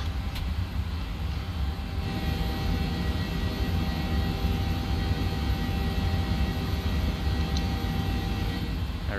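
PMDG 737-800 jet engines in Microsoft Flight Simulator, TUIfly flight from Dusseldorf to Faro, a continuous steady roaring drone with a faint high whine, unbroken and even throughout.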